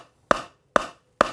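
A hammer lands three sharp, evenly spaced blows, each a crisp woody knock that rings out briefly before silence. The carpentry strikes sound close and isolated, with no voices.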